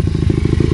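A dirt bike engine idles just after starting, a loud, close, rapid pulsing putter with a rough, clattery texture.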